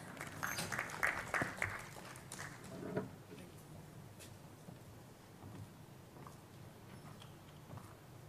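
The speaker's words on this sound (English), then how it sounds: "can we have a huge round of applause" An audience at an evening talk event on city experiments gives a round of applause for an introduced speaker. The clapping is dense and lively for about three seconds, then fades to a quiet room murmur.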